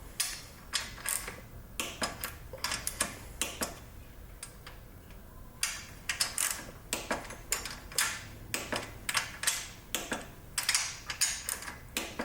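A ratchet wrench clicks in quick, steady bursts as a bolt is tightened on a John Deere 318 lawn tractor, close and crisp with brief pauses between strokes.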